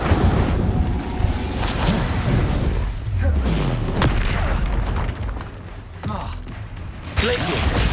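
Incendio fire spell blasts in Hogwarts Legacy, with booming, crackling bursts that run throughout the stretch alongside other noisy combat effects and a spoken voice.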